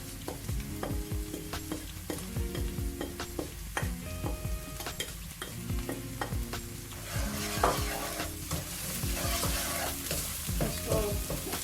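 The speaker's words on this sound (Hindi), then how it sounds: "इसको अच्छी तरह मसाले में मिक्स करेंगे। आधे मिनट के लिए मैं इसको भून लूँगी।" Palak spinach sautéed with spices in a pan for a Punjabi saag, a steady sizzle with repeated scraping and stirring strokes of a spoon against the pan, close and continuous.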